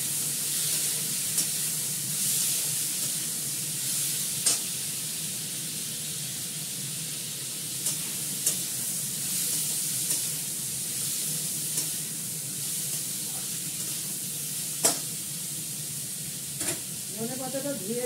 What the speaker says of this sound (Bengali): একটু ভাজা ভাজা করে নিই। দুটো কাঁচা লঙ্কা দিয়ে দেবো এর মধ্যে ভেঙে।